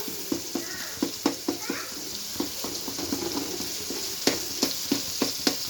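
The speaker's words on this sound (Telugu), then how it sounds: "ఇలా పొడుచుకుంటూ ఉండాలి టమోటాలని, అప్పుడు మెత్తగా అయిపోతుంది" Tomatoes mashed and stirred in a frying pan while cooking upma, giving a soft steady sizzle broken by repeated sharp clicks and taps of the spoon against the pan, close and alone.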